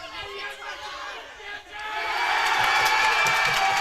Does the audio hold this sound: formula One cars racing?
no